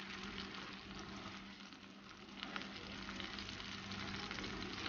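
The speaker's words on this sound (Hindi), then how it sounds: "अब दूसरी तरफ से हम 2 मिनट फ्राई करेंगे।" An egg pizza fries in a pan with a faint, steady, soft sizzle and no talk over it.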